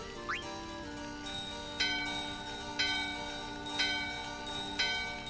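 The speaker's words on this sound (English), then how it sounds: "The bell in your hand and the doorbell are ringing." Bell chimes from the game Final Fantasy IX ring out at a steady pace, about five clear strikes roughly a second apart, each with a bright ringing tone that decays over a sustained background drone.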